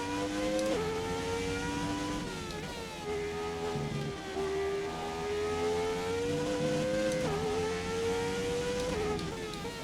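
A Formula One race car in a classic F1 racing game, lapping Monza with a sluggish gearbox. The engine drones loud and steady throughout, its pitch dropping and climbing again through gear changes.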